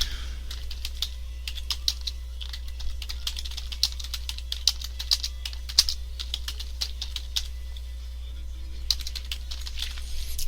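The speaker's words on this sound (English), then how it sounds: "we're going to type a description of what this macro does." Macro description being typed on a computer keyboard: a steady run of crisp, close key clicks with occasional louder taps over a low constant hum, with no speech.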